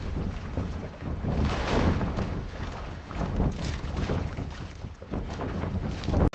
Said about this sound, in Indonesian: Inilah suara Sang Dutchman saat ia lewat.